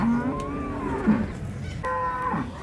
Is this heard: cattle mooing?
yes